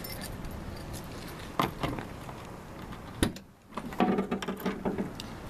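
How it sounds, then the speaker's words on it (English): Keys clink and jangle in short metallic bursts, two sets of keys shaken near the microphone while someone checks over a cheap old car bought for a demolition derby. "Got 2 sets of keys."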